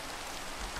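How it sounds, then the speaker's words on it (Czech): Steady rain falling in the Minecraft video game, a dense even hiss filling the brief moment with no talk. "keď nám takto hnusne prší"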